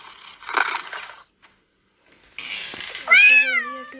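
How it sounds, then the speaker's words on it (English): A virtual pet cat in a phone app meows: after a few scratchy handling noises and a brief silence, a single clear, rising and falling meow sounds close and loud. "Cat on my hand."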